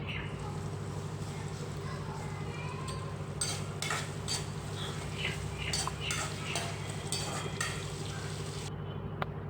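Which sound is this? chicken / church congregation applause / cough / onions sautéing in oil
onions sautéing in oil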